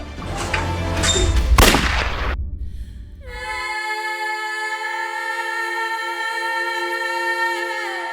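Gunfire in a TV crime drama: a loud burst of shots with booming low end in the first two seconds, followed by a sustained tonal ringing that carries on to the end.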